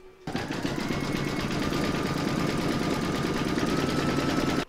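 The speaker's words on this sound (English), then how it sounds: "You're now going to place that back into your machine and stitch round number seven" Embroidery machine zigzag stitching an in-the-hoop pencil case, a rapid continuous mechanical whirring with fast needle clatter, steady and close for several seconds without talking.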